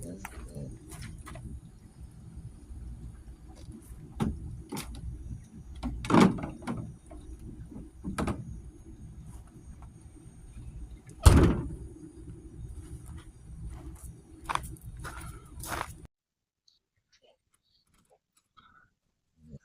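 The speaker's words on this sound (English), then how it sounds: "it's time to close the door and go back inside" A door at an RV gray and black tank dump area is handled, with scattered clunks and rattles and a heavy thud near the middle, followed by silence after a final close.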